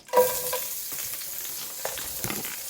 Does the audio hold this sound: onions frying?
yes